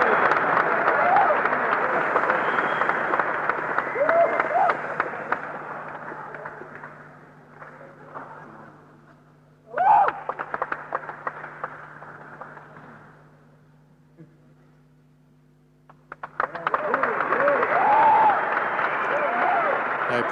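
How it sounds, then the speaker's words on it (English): A crowd at the 1980 Mr. Olympia bodybuilding contest cheers and applauds in loud waves at the start, in a sharp burst midway and again at the end, with quieter lulls between and someone talking over it. "every time Arnold comes on stage, the crowd goes wild."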